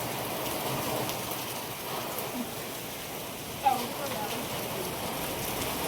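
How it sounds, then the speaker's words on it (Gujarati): Heavy unseasonal rain pours in Vadnagar as a steady, dense hiss of drops on surfaces, continuous and close, with one brief louder knock partway through. "અત્યારે બિન સિઝનનો વરસાદ પડવો"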